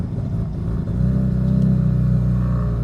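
A car with an 8HP automatic transmission and a Turbo Lamik TCU downshifts into first gear. The steady engine rumble rises in pitch and loudness partway through, heard from inside the car without talk.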